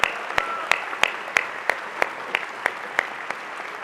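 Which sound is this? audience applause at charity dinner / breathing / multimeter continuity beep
audience applause at charity dinner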